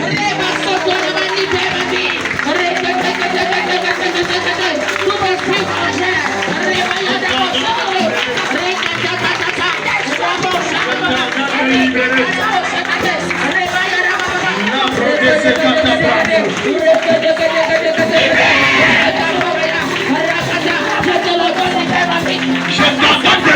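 Congregation cheering and acclaiming during a French-language deliverance prayer service, a loud continuous crowd roar with clapping that runs throughout and swells near the end, mixed with voices.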